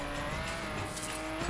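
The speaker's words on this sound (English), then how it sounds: "Keeps revving and then stopping." A damaged Ferrari engine in the video game The Crew, loud and close, with a sustained rev and a strained tonal whine, plus a brief high squeal partway through.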